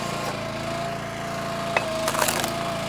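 A Split-Fire 3490 log splitter strains against a hard log, its engine droning steadily while a few sharp cracks and splintering snaps break through near the end.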